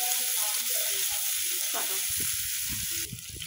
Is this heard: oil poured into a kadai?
yes